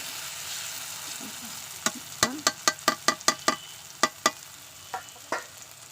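Onions frying in oil until soft give a low steady sizzle, overlaid by a quick run of about a dozen sharp metallic taps of a spoon against the pan, then a few slower knocks.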